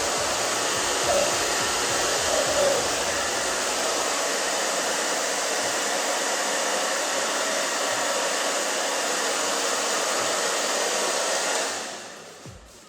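A hair dryer blows with a loud, steady rushing whoosh for several seconds while styling a short pixie haircut, then shuts off and winds down near the end.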